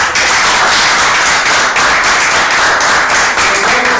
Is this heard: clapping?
yes